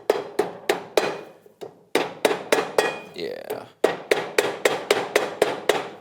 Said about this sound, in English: I'm just tapping on the outside edge with a soft blow hammer just till it gets down to that edge